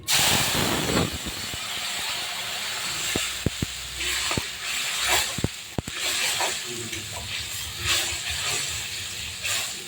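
Spinach curry vegetables dropped into a hot pan, a loud burst of hissing sizzle that settles into steady frying, punctuated by sharp clicks and scrapes of stirring.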